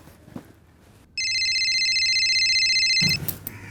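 A mobile phone ringtone sounds alone for about two seconds, a steady, loud electronic tone that starts abruptly and stops just as suddenly, followed by faint rustling.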